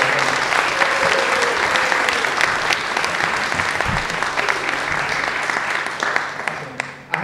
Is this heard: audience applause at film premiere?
yes